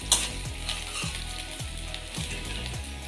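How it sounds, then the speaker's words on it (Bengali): Onions sizzling in hot oil in a pan while cooking masoor dal, a continuous close crackling fry with periodic scraping stirs roughly every half second. "পেঁয়াজকে একটু হালকা লাল লাল করে ফ্রাই করে নেব।"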